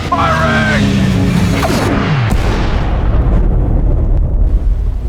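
Blaster fire erupts in a live-action Star Wars fan film: several quick, falling laser zaps ring out close and loud, followed by a booming impact that fades into rumble.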